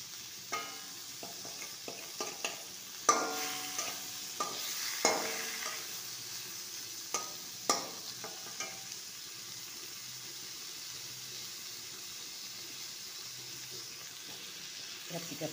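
Onions and tomato added to a hot pan and frying, with a series of clattering spoon-and-pan knocks and a soft sizzle that settles into a quieter steady fry, close by.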